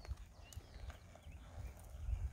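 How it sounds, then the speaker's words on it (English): A horse walks in a barn setting with a rider aboard, its hooves giving a soft, uneven clip-clop close by, fairly quiet against faint background noise. "This is what's so great about riding horses."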